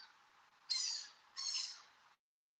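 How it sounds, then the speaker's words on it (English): Two short, breathy bird calls ring out one after another at moderate volume, each lasting about half a second, then silence. "What was that, a bird?"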